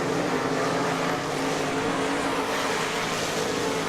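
Dirt track race cars roar around an oval at an inaugural Scout Built race, a loud, steady wall of engine noise that never lets up across the whole stretch, with no voices.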